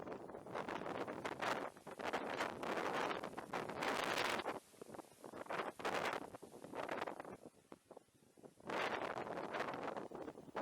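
Gusty wind buffets an open-air fishing spot at a shallow pool, roaring in long broadband surges that rise and fall, with a brief lull before the blast returns strongly.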